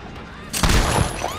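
Deathslinger's gun firing in Dead by Daylight, a single loud, sharp shot cracking out after a quieter lead-in, followed by a short ringing tail.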